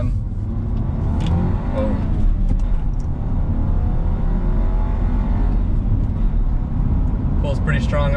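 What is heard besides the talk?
Audi B9 A4 Unitronic Stage 1 engine accelerating from first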